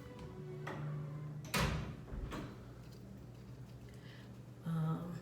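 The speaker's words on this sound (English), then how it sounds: "let me close this door" An indoor door swings shut with a single solid thud partway through, followed by faint rattles and a soft later knock, quiet and close in a home room.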